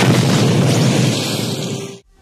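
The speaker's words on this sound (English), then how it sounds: "The shoulder cannon is an ultra-accurate firearm that targets and shoots a deadly explosive or plasma-like blast at the predator's target." Blast from the Predator's shoulder cannon in the film: a loud, sustained explosive roar with a dense low rumble, holding for about two seconds before cutting off abruptly.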